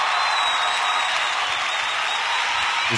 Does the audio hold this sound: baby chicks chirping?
no